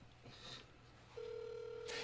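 A phone call is placed: a short beep followed by a steady electronic dialing or ringback tone on a telephone, faint and close, with a brief burst of noise at the end.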